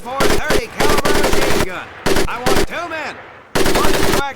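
Rapid machine gun fire in the video game Medal of Honor Pacific Assault, heard as loud, close bursts of rattling shots separated by short pauses, about four bursts in all.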